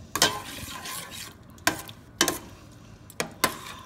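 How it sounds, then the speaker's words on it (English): Shrimp sauté in butter in a pan for crawfish étouffée; five or six sharp clacks and scrapes of a utensil against the pan ring out at uneven intervals over a faint, low sizzle. "I'm going to saute that just till your shrimp starts curling up and turning"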